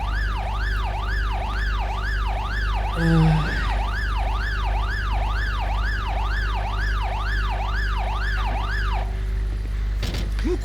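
An ambulance siren in GTA 5 with the LSPDFR police mod wails in steady, rising and falling sweeps, loud and close. A brief clatter breaks in midway and again near the end.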